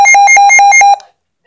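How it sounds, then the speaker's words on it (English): A loud, piercing test alarm from a Midland WR120 weather radio beeps in rapid pulses for about a second, then cuts off into silence. "It is pretty loud alarm"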